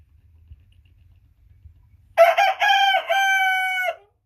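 An American Bresse cockerel, about twelve to fourteen weeks old, crows once close by, a loud strained call of several broken syllables ending in a long held note, following a few seconds of quiet low rumble.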